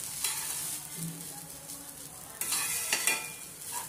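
Vegetables stirred in a frying pan with ground pepper, vinegar and soy sauce, giving a steady close sizzle with scraping strokes of the spatula that build up louder in the second half.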